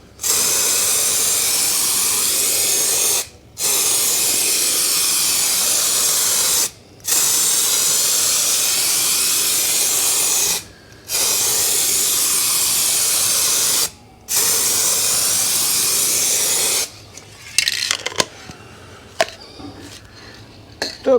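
Spray gun laying a heavy second coat onto a BMW E46 330Ci, long loud hissing bursts of several seconds each separated by short pauses, followed by scattered clicks and handling noises.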